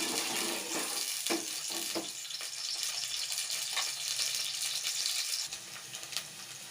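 Chopped onions frying in hot oil in a pan for a fish curry, giving a steady watery sizzle that stays loud and even throughout with no talking.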